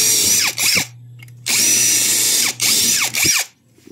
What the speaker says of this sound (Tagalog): So gamit pala nating barena is Inco.